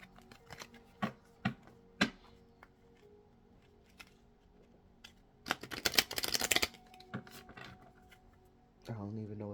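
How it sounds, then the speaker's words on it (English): A deck of tarot cards is handled and shuffled: scattered crisp card snaps and taps, then a dense riffling burst of about a second, ending with a brief voice. "Spirit said shuffle the cards. So I did what Spirit said."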